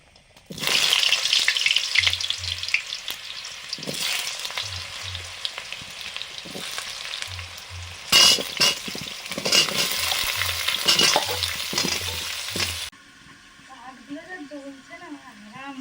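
Pumpkin and potato pieces frying in a pan with bay leaf and dried chillies over a teak-wood fire, a loud steady sizzle broken by repeated scraping stirs, with a voice talking over it; the frying drops off sharply near the end.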